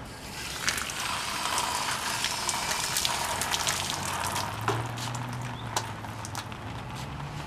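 Water splashes steadily over a van headlight during a rinse, a continuous close gush with a few brief drips and knocks and a low hum underneath, and no speech.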